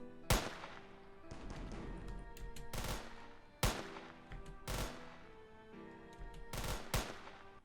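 Cannon fire in the video game Modest Hero: several loud, sharp booms at irregular intervals, each followed by a crackling rumble and layered with busy game sound effects.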